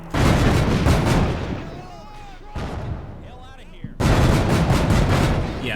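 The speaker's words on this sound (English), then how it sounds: "we're taking some nasty hits. Oh! Penetrating hit." Explosive hits on an infantry carrier in Combat Mission Shock Force 2: heavy booming bursts and gunfire crash in loud waves with a short lull, and a voice speaks between the blasts.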